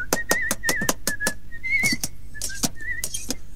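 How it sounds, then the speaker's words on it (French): A person whistles a short, wavering tune while working, over rapid clacking and tapping, like bricks or tools being struck in a quick rhythm. "en travaillant, il aimait bien siffler"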